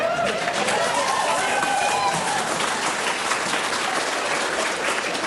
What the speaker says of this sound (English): I just want to say to the whole gallery who's applauding